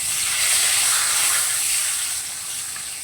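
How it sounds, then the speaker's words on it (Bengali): Tempering spices drop into hot oil for a taro leaf curry, producing a steady, loud hissing sizzle that holds evenly throughout, then eases slightly toward the end. "এই দেখো ফোড়নগুলোকে দিয়ে দিচ্ছি প্রথমে।"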